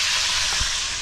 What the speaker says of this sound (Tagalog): Ayan, tapos na tayo mag-prito.